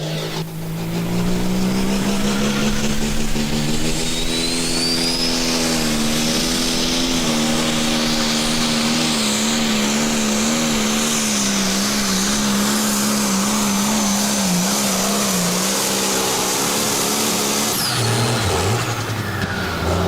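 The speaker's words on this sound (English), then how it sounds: "So last tractor to go." A John Deere pulling tractor roars at full throttle while dragging a sled down the track at a tractor pull event, a loud, sustained engine howl with pitch wavering as it strains, for about twenty seconds.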